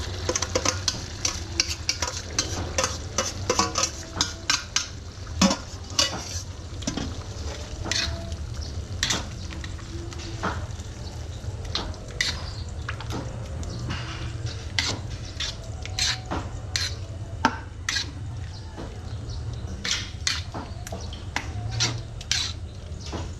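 Pork belly fries and sizzles in a pan while being stirred, a constant hiss under repeated sharp scrapes and clinks of a utensil against the metal, close and busy throughout.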